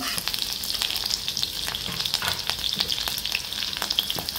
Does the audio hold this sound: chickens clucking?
no